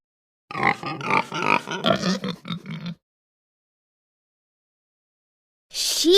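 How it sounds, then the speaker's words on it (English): Close, loud pig grunts and oinks in a quick rhythmic series of about ten pulses over a few seconds, then silence and a brief separate sound at the end. "Pig."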